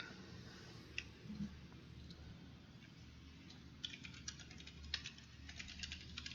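Faint, irregular keyboard typing taps and clicks sit over a low ambient room hum, sparse at first and growing denser toward the end.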